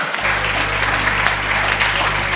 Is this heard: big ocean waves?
no